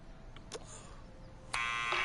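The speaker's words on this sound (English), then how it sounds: "Push the buzzer." An electronic door buzzer in the Back to the Future video game, heard as a couple of short tones and then a sustained loud buzz that continues to the end.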